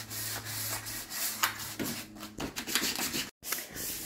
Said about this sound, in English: just sanding the little bits to go around the fireplace